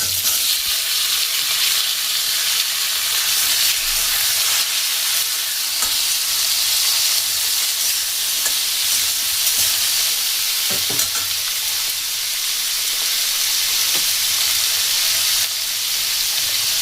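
Cut potatoes fry with cumin seeds and a cracked dried red chilli in a hot pan, giving a loud, continuous sizzle and hiss. Occasional soft clatters of stirring break through the close frying noise.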